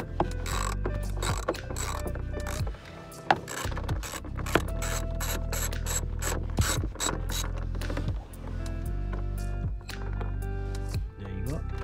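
Ratchet wrench loosening a 10 mm nut on a 2015 Volvo truck during heater core replacement, a rapid run of clicking pawl strokes in bursts, close and clear, with a low rumble underneath.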